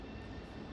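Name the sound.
airplane flying overhead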